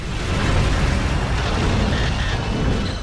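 Loud, continuous explosions rumble and boom through a Godzilla video game, a dense and unbroken roar of blasts with no talking over them.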